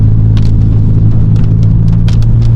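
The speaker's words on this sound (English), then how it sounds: "And then you get me driving through in this noisy Golf GTI." VW Golf GTI engine on the road from inside the moving car: a loud, steady low rumble and drone with constant road noise and faint higher rattles throughout.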